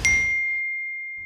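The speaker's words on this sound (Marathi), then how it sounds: "आणि तितक्यात एक मेसेज आला." A single bright notification ding rings out for a new phone message, sharp at the onset and then a thin pure tone lingering and slowly fading, with nothing else around it.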